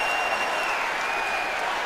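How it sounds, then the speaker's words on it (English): Crowd at a Packers versus Bears NFL football game roaring as the offense lines up, a steady dense wall of cheering and noise from a large stadium, with faint whistle-like tones riding on top. "And now that the crowd gets into it,"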